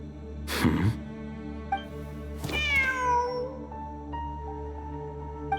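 A cat in the Genshin Impact video game, among desert ruins, gives one clear rising-and-falling meow, with softer game sounds and a steady background tone around it.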